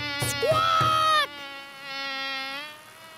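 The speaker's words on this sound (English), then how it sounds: "I can hear another noise. It's a buzzy bee." A cartoon bee gives a bright, buzzing drone that wavers in pitch and then dies away, with a few soft taps at the start and no talking.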